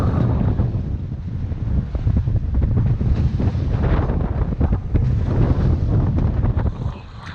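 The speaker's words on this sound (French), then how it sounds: "les vagues deviennent un peu plus espacées" Choppy sea waves slap and churn around a small boat heading back through heavy squalls, with constant roaring wind buffeting the microphone throughout at a loud, dense level and no speech.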